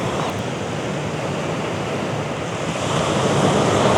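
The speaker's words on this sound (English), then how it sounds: "And the surf is up a little bit." Ocean surf breaks on a Florida beach along 30A: a steady, loud broadband wash of waves rushing ashore, swelling slightly toward the end, with some wind noise and no talk.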